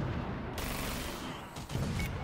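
Sustained machine gun fire from the Toy Soldiers: Cold War video game rattles loud and dense, with a brief dip before the bursts resume.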